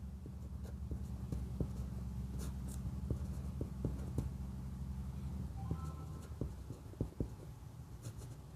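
Pen writing out a maths solution for a linear equations problem, faint scratching strokes and light taps against a steady background hum, close and quiet with no talk.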